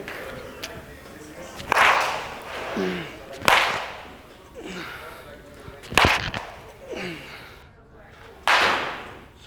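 Baseball bat swings during hitting practice: about five sharp, loud cracks spaced a couple of seconds apart, each ringing out briefly, with people talking in between.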